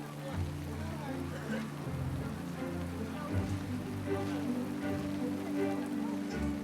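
Steady rain pattering on surfaces in a cold, slippery mountain village, a dense, even hiss with low rumbling underneath, continuous and fairly close.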